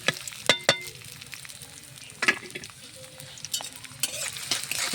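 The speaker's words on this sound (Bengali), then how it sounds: "শাক ভাজার জন্যে কড়াইয়ে তেল দিব" Garlic, chopped green chili and onion frying in oil in a wok, a continuous close sizzle with scattered clinks and scrapes of a stirring utensil, no voices.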